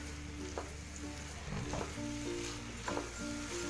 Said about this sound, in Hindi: इसकी गाजरों की भुनाई कर लेते हैं अच्छे से।